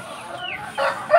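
Bangkok-breed hens cluck briefly at close range in a quick run of short, nasal calls.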